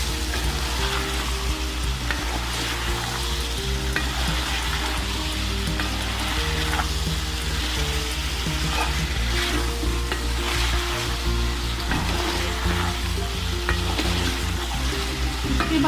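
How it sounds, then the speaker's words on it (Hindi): Ingredients for spicy chicken pasta with colorful bell peppers sizzle steadily in a hot pan, a loud, continuous frying hiss with occasional stirring and no talking. "थोड़ी सी मैं इनको फ्राई करूंगी।"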